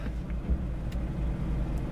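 A Mazda car driving home through the city after an errand, its engine and road noise forming a steady low rumble heard from inside the cabin, with no talking.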